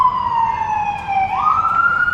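An ambulance siren wails on a Boston city street, a loud sweeping tone that dips, then rises again as the vehicle passes close by, with road noise beneath.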